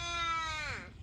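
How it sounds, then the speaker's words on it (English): A crow caws once, a long, harsh, drawn-out call that bends downward at the end, heard clearly over low background rumble with no talking. "Crow."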